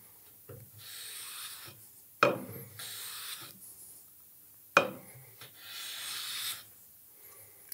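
Hand plane taking shavings off the edge of a clamped wooden test piece: two sharp catches each followed by a soft rasping stroke, plus quieter scraping passes between them, close and fairly faint.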